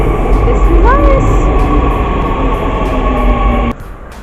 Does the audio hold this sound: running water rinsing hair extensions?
no